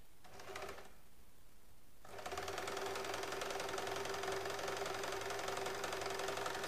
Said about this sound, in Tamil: அதை வந்துட்டு இப்போ இப்படி தைச்சிக்குவோம்